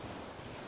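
A waterfall in the video game Elden Ring: Shadow of the Erdtree gives off a steady, dense rush of falling water, an even roar with no breaks and no voices.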